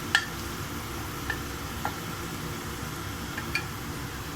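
Pullaganda fish frying in a pan as the pieces are turned over, a steady soft sizzle with a few faint clinks and taps of the utensil, no talking.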